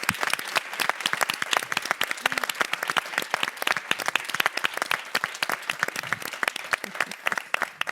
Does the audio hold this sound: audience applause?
yes